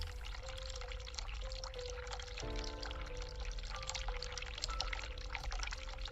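Cold water runs from a sink tap in the horror video game The Cat Lady, a steady pouring stream splashing into the basin, close and continuous, with a shift in pitch partway through.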